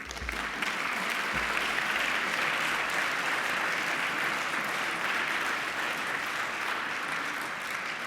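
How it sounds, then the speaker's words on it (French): Sustained applause from a conference audience at a closing session, steady and dense throughout with no pauses, filling the whole stretch. "je vous demande de les applaudir"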